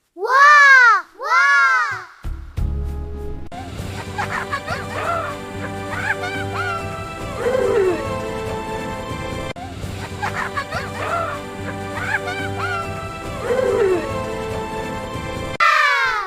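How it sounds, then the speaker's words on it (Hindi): A small cartoon child cries in a jungle scene, with repeated wailing sobs rising and falling near and loud at the start, then continuing faintly under music and effects. "कोई बच्चा रो रहा है।"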